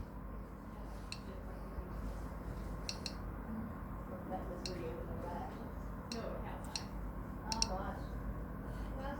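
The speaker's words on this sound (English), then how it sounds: "Now we know it's working because we can hear this clicking." A Geiger counter in a school radiation practical picks up background radiation with sparse, irregular sharp clicks, a few seconds apart, over a steady low hum and faint murmuring voices.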